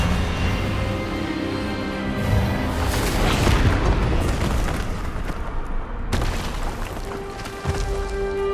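An Expelliarmus spell in Hogwarts Legacy lands as a loud, deep blast that swells into a rumbling boom, followed by a sharp crack and lingering game ambience.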